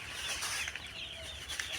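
Chickens in a poultry shed cluck faintly amid a dense, hissing background, the soft calls scattered and overlapping with no voices.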